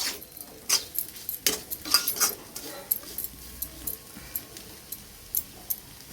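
Spoon scraping and clinking against a pan while potato curry is stirred together with sesame powder, giving a run of irregular close metallic taps and scrapes with no voice.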